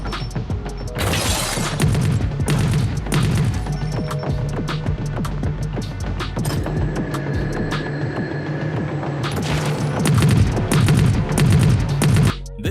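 Gunfire and crashing impacts in the mobile first-person parkour shooting game Sky Trail, with loud dense bursts of shots and booms over a continuous game soundscape.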